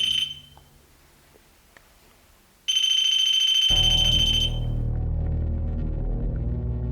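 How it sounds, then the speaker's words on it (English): An electromagnetic-field alarm goes off during a paranormal investigation at Archcliffe Gate: a faint beep, then a loud, steady high-pitched tone for about two seconds, followed by a harsh, continuous noise. "As the alarm activates"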